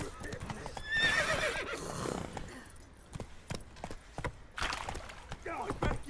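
A horse in The Witcher 3 video game gallops with rhythmic hoofbeats and lets out a loud, high neigh, while game characters talk and shout over the clopping.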